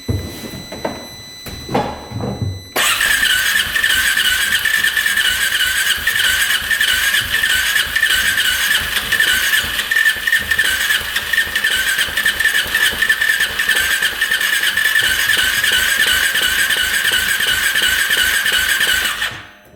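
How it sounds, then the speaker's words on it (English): A UTV engine cranks over continuously for a long stretch without firing, a loud rhythmic whirring and chugging that never catches, then stops abruptly. "Engine sounds pretty good turning over, just does not want to fire."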